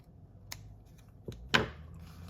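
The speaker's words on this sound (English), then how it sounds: "this is where I need to trim that little bit off there." Scissors trimming a small strip of paper while making a Gelli print stepper box, a few faint snips ending in one sharper, louder cut in a quiet room.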